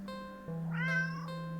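A single drawn-out video game cat meow, clear and close, rising and falling over about a second with a faint steady hum behind it.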